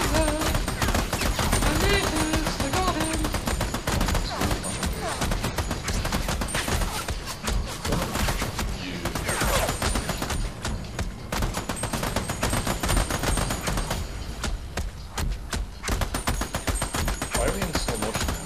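Gunfire in the co-op shooter game Army of Two, rapid sustained bursts of automatic fire crackle continuously and loudly, with voices talking over the shooting.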